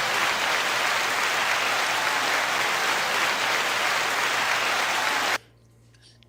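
A studio audience claps loudly and continuously for several seconds before it stops abruptly into near silence.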